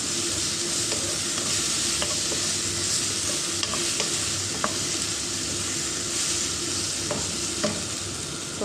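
Beef tripe sizzles steadily in a hot pan with a continuous frying hiss, while a utensil stirs and scrapes it at intervals, with no talking.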